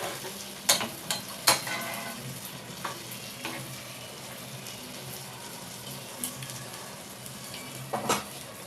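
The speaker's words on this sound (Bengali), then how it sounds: "ভালো করে 10 মিনিট এটাকে ফুটিয়ে নিতে হবে" Soy chunk curry for a vegetarian hilsa-style dish simmering in a pan, giving a low steady bubbling sizzle broken by a few sharp spoon clinks against the metal.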